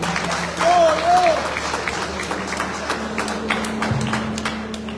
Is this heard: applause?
yes